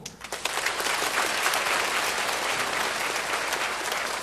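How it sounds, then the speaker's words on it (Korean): A church congregation in Daejeon bursts into applause during a sermon, with sustained, even clapping from a crowd that continues from start to finish. "박수!"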